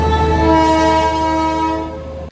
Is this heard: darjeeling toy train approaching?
yes